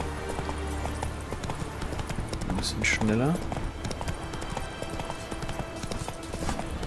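Horse hooves clip-clop at a brisk rhythmic pace while riding in The Witcher 3, mid-loud and continuous, with a short whinny midway and someone speaking over it.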